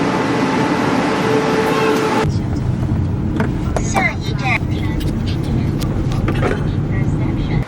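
Cabin noise from riding inside a minivan-sized bus in Taiwan: a steady engine and road rumble with rattles and shifting bumps, under a voice talking.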